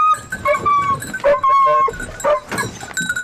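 Hunting hounds with deep voices, including Gascon Saintongeois and Porcelaine crosses, baying at a deer drive hunt in Aubrac. Loud, close, overlapping yelps and drawn-out bays in quick succession, with no talk.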